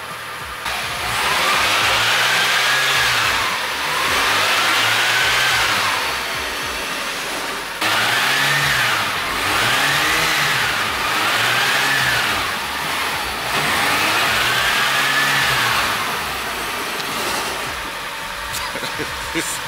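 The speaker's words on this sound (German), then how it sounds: "Das ist ja krass, der Motor läuft einwandfrei." An old barn-find car engine idles roughly and revs up repeatedly in rising and falling surges, loud and close, with a faint whine riding above.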